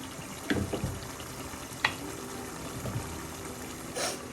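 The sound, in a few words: prawn masala simmering and reducing in a pan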